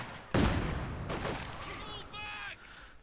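Small-arms gunfire in Company of Heroes 2, a sharp burst of rifle shots crackling close by amid battlefield noise, followed by a brief ringing tone.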